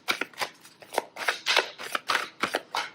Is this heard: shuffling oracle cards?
yes